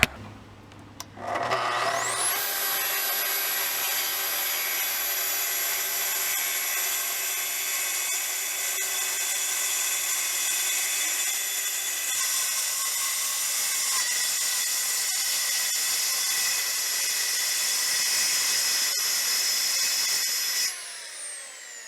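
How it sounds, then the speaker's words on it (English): A power saw cuts a hatch out of the middle of a piece, spinning up quickly and then whining at a steady, loud pitch for about twenty seconds before stopping abruptly. "I'm cutting the hatch out in the middle of this piece."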